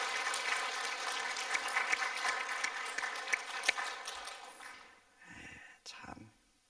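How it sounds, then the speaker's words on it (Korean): Congregation at a Wednesday evening church service gives a dense, sustained round of applause for the young adults, loud and steady for about five seconds before thinning out into scattered claps and room noise. "우리 청년들 위해서 박수 한번 하겠습니다"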